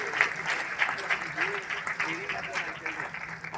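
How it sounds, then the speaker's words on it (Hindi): Audience in a hall clapping steadily throughout, with a voice speaking over the applause. "ताली बजती रहनी चाहिए।"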